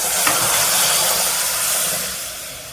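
Millet paste hitting a pan of sautéed onion, garlic and ginger, giving a loud, broad hissing sizzle that comes in strong and then slowly fades, with no talk.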